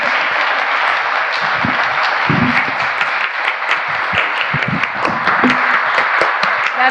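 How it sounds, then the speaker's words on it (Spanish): An audience at a cultural talk series in Spain gives sustained, dense applause that stays steady and fairly loud for the whole stretch, with a few louder claps standing out near the microphone. "yo pienso que tanto Pilar como Laura se merecen un aplauso"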